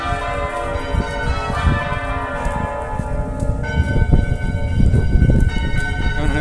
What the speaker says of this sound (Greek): καμπάνες μας επηρεάζουν λιγάκι και κάνουν πολύ θόρυβο